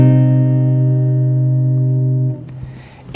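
A sustained electronic keyboard chord, a minor voicing, holds steady and loud for about two seconds, then cuts off into a brief noisy tail.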